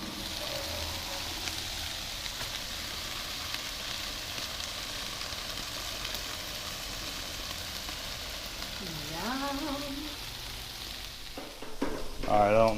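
Shrimp sizzle steadily in a hot pan for a Florida BBQ shrimp dish, a continuous close frying hiss with a few brief scraping sounds near the end and no talking.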